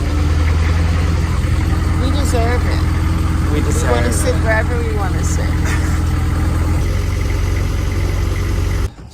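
A large tour boat's loud, steady engine idles with a constant low drone around the Phi Phi Islands, Thailand, while people talk over it, ending abruptly as the sound cuts out.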